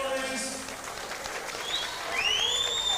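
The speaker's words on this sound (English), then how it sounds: "Ladies and gentlemen, put your hands together again for these 2 warriors." Crowd applauding at a live MMA event after the main event bout, steady clapping under a loud ring announcer's voice and swooping synthesized music.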